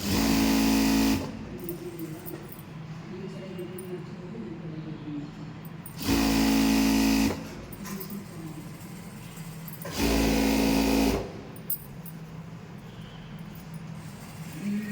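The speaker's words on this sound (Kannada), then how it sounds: "ಸ್ಟಿಚ್ ಮಾಡ್ತೀನಿ" Electric sewing machine stitching pant cloth with a half-inch seam, running in three loud bursts of about a second each, separated by quieter handling pauses.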